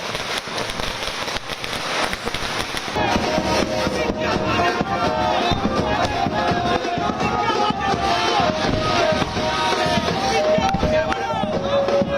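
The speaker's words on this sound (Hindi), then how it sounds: "सुनवाइए जरा कैसे आतिशबाजी हो रही है" A continuous dense crackle of exploding fireworks celebrating BMC election results in Mumbai, loud and steady, with a whistling hiss over the top and a crowd murmuring underneath.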